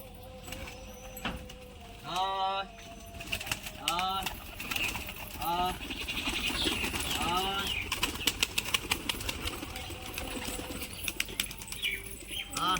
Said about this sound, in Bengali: পায়রাগুলো ছাড়বো